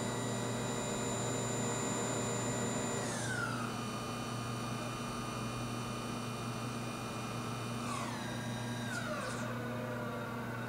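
The spindle of a Kira CNC drilling and tapping center runs with a steady high whine over a constant machine hum, its pitch stepping up twice as it speeds up, with no voices.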